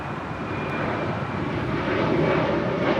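A Delta Boeing 757-200 airliner landing at Los Angeles International Airport, its engines producing a steady, loud, broadband roar that swells slightly as it nears, with no talk.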